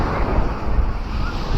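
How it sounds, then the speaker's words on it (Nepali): Sea waves along the Korean coast wash in as a continuous low rumbling surge with some wind buffeting on the microphone, steady over a short moment. "समुद्रका छालहरू"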